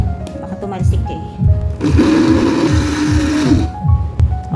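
Blender whirring as it purees garlic for chili garlic oil, a loud steady motor drone lasting about two seconds, with a person talking before and after.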